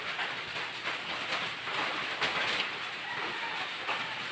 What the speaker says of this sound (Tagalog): Lakas pa rin ang ulan, no?